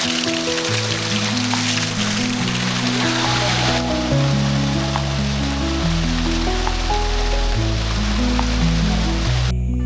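Cold hill-station waterfall water rushes and splashes in a constant broad hiss, partly covered by background music playing over it the whole time.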